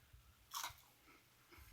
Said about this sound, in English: Ooh, that was crunchy.